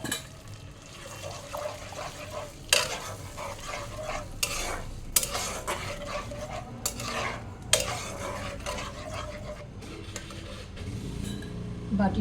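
Ground paste of milk, coconut, mustard and poppy seed with green chilli bubbling and sizzling in a pan, with steady frying under repeated scraping and stirring of a utensil against the metal and occasional clinks.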